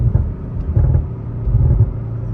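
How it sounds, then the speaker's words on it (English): From inside the cabin of an Audi RS5, a steady low engine rumble hums close and fairly loud, with a smooth, refined tone and little wind noise over the short stretch. "in-cabin noise gives it a little bit of a different sound. A bit more refined, because you can hear more engine and less wind noise."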